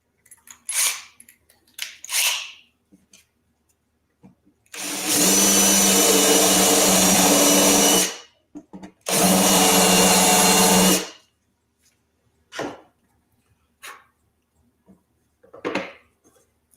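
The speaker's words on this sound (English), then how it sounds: "Last step, countersink." Power drill cutting a countersink for a brass flathead screw in wood for outdoor seat joinery, two loud sustained whirring bursts of about three seconds each, with quieter handling knocks and clicks before and after.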